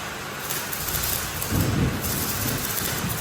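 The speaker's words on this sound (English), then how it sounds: "Absolutely pissing down rain." Heavy rain pours down steadily in a loud, dense hiss, with a low rumble of thunder swelling midway through.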